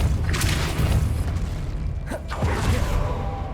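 Depulso spell cast in the Hogwarts Legacy video game, a deep booming burst with a whooshing swell over a dense rumbling backdrop.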